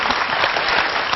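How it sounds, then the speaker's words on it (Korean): A room full of people claps steadily after a musical performance, a dense, even wash of applause throughout. "오늘 멋진 연주 들려주신 이지영 씨에게 큰 박수 부탁드리겠습니다."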